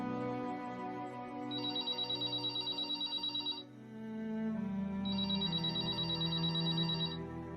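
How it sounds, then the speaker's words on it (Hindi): A telephone rings in two long repeated bursts of a bright electronic trill, separated by a short pause, over a sustained musical background in a Punjabi film scene. "मैं करता रहूंगा फोन जब तक तू वापस नहीं आ जाती प्रीत।"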